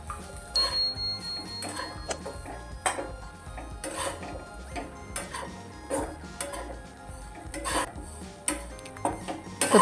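Ground paste sautéing in ghee over low heat for a sweet kheer, with soft irregular scraping and ticking of a spoon against the pan and faint background sizzle.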